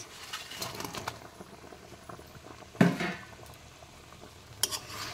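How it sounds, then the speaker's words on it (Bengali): Fish curry bubbles in a pan as fried fish is stirred into the simmering milk-based gravy, a low steady boil broken by a couple of distinct spoon scrapes. "একটু নেড়ে চেড়ে মিশিয়ে দেব।"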